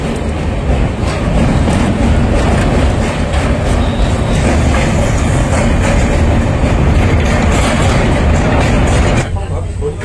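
The 12343 Darjeeling Mail from Sealdah rolls over the Kali bridge near Dakshineswar, a loud, steady rumble of wheels and carriages with rhythmic clatter close by, easing off near the end.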